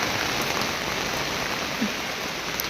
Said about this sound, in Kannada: ಭಾಳ ಜೋರ್ ಬರತ್ರಿ ಮಳಿ